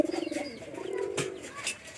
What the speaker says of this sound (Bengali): দেখতে পারতেছেন পায়রাটা ফাঁকা হওয়ার পর থেকে কিন্তু যে কোনো পায়রা ডাকলে কিন্তু জোড়া নিতেছে